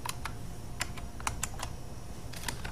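Fingers typing on a computer keyboard at a desk, sounding as a few quick, light key clicks in short bursts. Quiet and close, with no talk.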